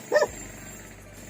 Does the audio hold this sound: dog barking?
yes